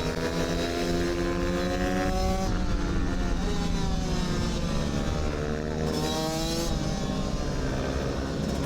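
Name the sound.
two-stroke supermini race bike engine during a lap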